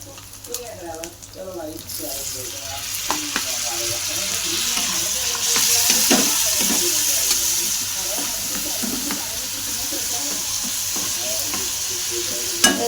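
Tomato and onion fry in a pan for a green onion-stalk and dried-fish chutney, giving a steady sizzle with repeated stirring scrapes throughout and some faint water-like sounds.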